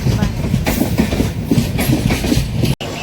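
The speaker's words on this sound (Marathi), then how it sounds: "आता इथून आम्ही चाललो आहे लोकल ट्रेनने घरी" A Mumbai local train arriving at Diva station, running at speed, with loud rhythmic clickety-clack of wheels over rail joints and a steady rumble, heard close from inside the carriage.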